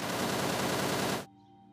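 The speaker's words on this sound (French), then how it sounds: "On dirait que je viens d'entendre un coup de feu par là." Rapid, dense gunfire in a Nigerian film plays as a loud continuous burst for about a second before cutting off abruptly into quiet.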